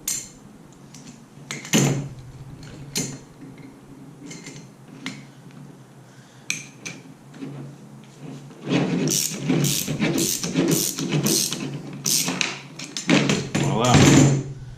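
D.I.D. KM500R chain tool pressing pins out of a Hayabusa motorcycle chain, with close metallic clicks, scrapes and ratcheting taps, heard in scattered bursts alongside background clatter.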